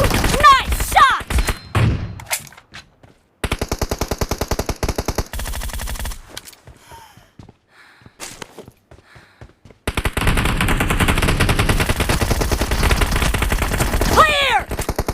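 Rapid bursts of automatic gunfire from PUBG played on a 7th-generation iPad, with loud, dense runs of shots separated by short pauses and quieter gaps.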